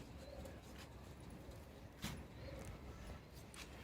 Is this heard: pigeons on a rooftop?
yes